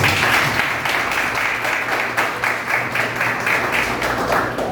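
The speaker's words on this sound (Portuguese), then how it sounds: "Agora vamos aplaudir o Senhor pela vida do nosso pastor" Church congregation clapping for the pastor at an evening Bible study, a crowd applauding with slightly pulsing, rhythmic claps, steady and fairly close, without talk over it.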